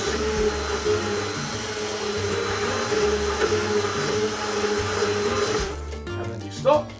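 An electric mixer whirs loudly and steadily while it mixes pancake batter, then cuts off near the end and leaves a few clinks and handling noises.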